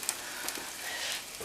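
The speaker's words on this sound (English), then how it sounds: "onions, put them in some oil with a bit of salt to start them breaking down" Onions frying in oil with a pinch of salt give off a soft, steady sizzle with faint crackles, quiet and close, with no voices over it.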